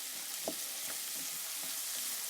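Masala sizzles in hot oil with cumin and green chillies for anda tikka masala, a steady hiss with a few soft stirring scrapes, close and fairly quiet over a short stretch.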